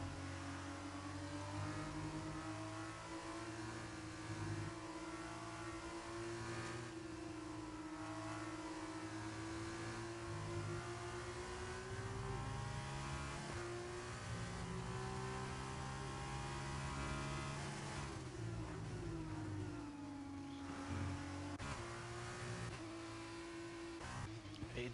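F2 race car engines in a racing video game at a Mexico circuit, a steady high-pitched drone with shifting pitch as cars upshift and downshift throughout, running continuously under speech.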